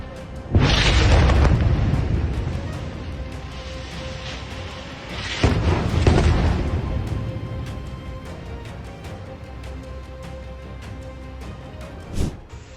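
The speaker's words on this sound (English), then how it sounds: "Israel missile attack on Palestine causes building to collapse." A missile strike brings down a building: two heavy, booming blasts a few seconds apart, each followed by a long rumbling roar that slowly fades, then a sharp crack near the end.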